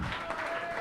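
Brief burst of clapping from an audience at a Hindi kavi sammelan comedy poetry gathering, dense and steady throughout, with a faint tonal hum beneath.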